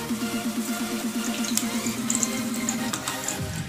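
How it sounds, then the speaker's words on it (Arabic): Half a glass of country oil pours into a cooking pot in a steady gurgling, glugging stream that stops near the end, close and moderately loud. "غنديروا الزيت البلديه نص كاس"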